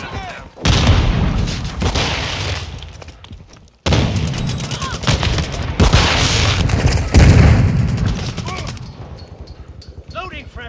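Grenade blast in Call of Duty Modern Warfare 2 multiplayer, loud booming bursts amid continuous close gunfire and explosions across the whole stretch, with brief drops in between and faint speech in the mix.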